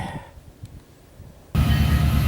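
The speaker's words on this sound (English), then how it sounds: "Here's our first train for the day." A Union Pacific train approaching on a New Mexico line: a faint, distant rumble at first, then a sudden loud, steady roar of the passing train filling the final second.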